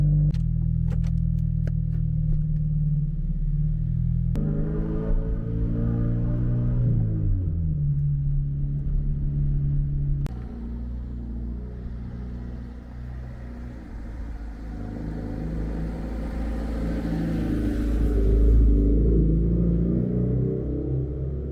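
A pink Mazda Miata's engine idles after a cold start, a deep steady rumble close by, with a brief change in revs early on, then settling and swelling again near the end; no talking.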